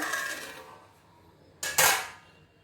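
A steel plate used as a lid clatters off a pot of freshly cooked pulao on a stove, giving two close, sharp metallic clanks after a quiet stretch.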